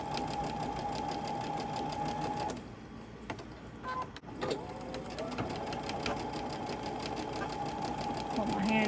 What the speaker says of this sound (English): As soon as we get done sewing these, that's all it's going to take to make the squares.